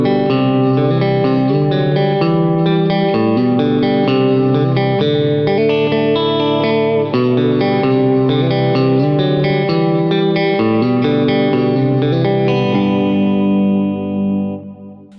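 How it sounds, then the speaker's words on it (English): Electric guitar played through an HX Stomp into a Power Cab using a Celestion Greenback speaker model, a loud, continuous driven tone with effects and sustained chords and notes throughout, ringing out at the end. "So the sound you just heard is a combination of HX Stomp, a Celestion greenback model in that Power Cab"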